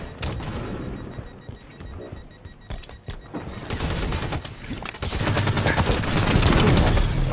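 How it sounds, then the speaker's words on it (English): Grenade explosions and gunfire in a Halo 5 private match, with bursts of rapid shots followed by loud, sustained blasts that grow denser and heavier toward the end. "That was a pretty good grenade."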